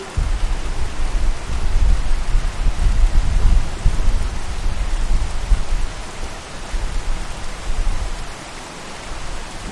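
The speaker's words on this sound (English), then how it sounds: "It's a lot of rain." Heavy rain pours down steadily on a cruising sailboat, a dense roaring hiss with a deep rumble underneath, loud and continuous with no voices.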